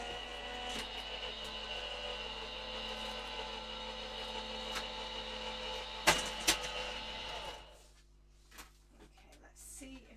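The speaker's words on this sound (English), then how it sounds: "So bear with me while we make a bit of noise over here, and you can't see what I'm doing, but my Gemini machine is just behind me." A Gemini die-cutting machine runs steadily nearby with a continuous mechanical whir and hum, pressing through a warped cutting plate, ending with a few sharp clunks before the motor noise drops away.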